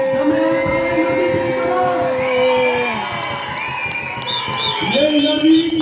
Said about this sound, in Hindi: एक बार जोरदार तालियां होनी चाहिए भरत जी के लिए।